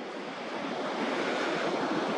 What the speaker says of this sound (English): The water isn't allowed to rest in this location. It's turbulent.